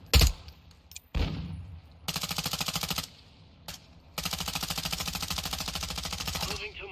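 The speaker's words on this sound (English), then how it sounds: "I'm taking fire" Automatic gunfire in the Call of Duty Warzone 2 video game, two long rapid bursts of machine-gun fire after a couple of sharp single shots, loud and close.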